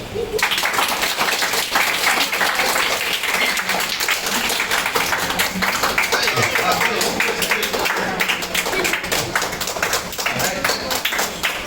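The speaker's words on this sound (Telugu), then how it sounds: "మీరు క్లాప్ చేయాలా?" An audience at a VBS programme claps continuously in a dense, fairly loud patter of applause that fills the whole stretch, with voices mixed in underneath.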